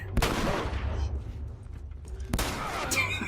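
Gunfire in The Last of Us, a few sharp shots with echoing tails ringing out against a low game soundscape, close and fairly loud.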